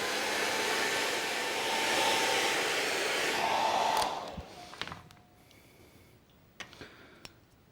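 A hair dryer blows steadily up close while drying paint, a loud breathy whoosh for about four seconds before it cuts off, leaving quiet room sound with a few light taps.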